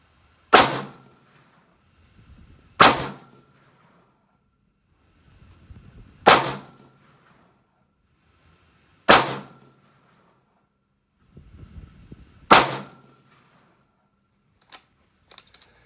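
Ruger RPR rifle fired at an outdoor range, five loud, sharp reports spaced several seconds apart, each with a short ringing tail, and faint handling noise between shots.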